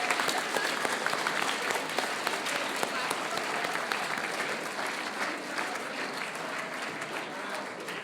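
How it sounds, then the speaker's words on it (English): Town hall audience applauding themselves, a long, even wash of many hands clapping throughout the room, moderately distant and steady for about eight seconds before tapering slightly. "please, everybody give yourselves one more round of applause"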